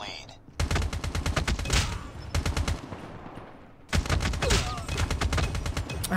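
A Man O War assault rifle in Call of Duty Mobile tap-fires in loud, close, rapid bursts that stutter through a long volley, pause briefly, then resume with another sustained string of shots.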